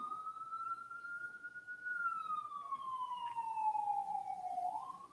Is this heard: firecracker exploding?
no